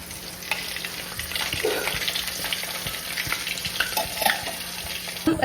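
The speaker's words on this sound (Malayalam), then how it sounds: "അപ്പൊ നമ്മൾ ഫ്രൈ ചെയ്തെടുക്കാൻ പോവാണ്" Food frying in a pan at home, a steady crackling sizzle running throughout with occasional stirring clinks and scrapes, moderately close.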